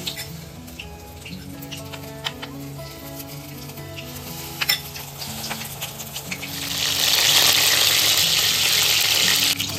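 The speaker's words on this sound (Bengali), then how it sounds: "মাশরুমগুলো ভাজা হয়ে গেছে, তুলে নিচ্ছি।" Mushrooms fry in hot white oil, a steady close sizzle with crackling pops that swells louder toward the end, with no talking.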